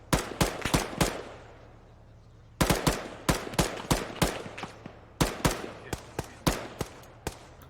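Gunfire in the video game Arma 3, sharp loud shots in quick bursts and single cracks with echoing tails, a pause, then more rapid rounds close by.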